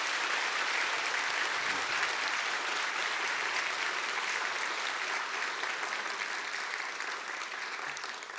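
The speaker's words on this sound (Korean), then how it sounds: "은수, 민주, 한 번 더 격려의 박수 부탁드리겠습니다" A church congregation at a Sunday worship service gives a sustained round of encouraging applause, dense and steady throughout and easing off slightly near the end.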